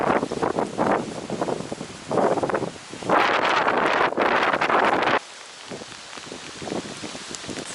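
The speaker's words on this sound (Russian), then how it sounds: "а дождь просто с ветром небольшим" Rain driven by light wind at a lakeside or riverbank fishing spot, a rushing, gusty hiss that swells and fades in loud bursts and buffets the microphone, then settles into a softer patter.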